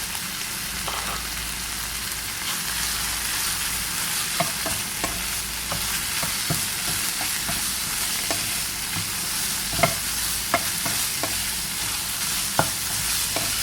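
Minced pork stir-fried dry with holy basil in a hot pan, a steady loud sizzle broken by scattered clicks and scrapes of the spatula throughout, with no talking.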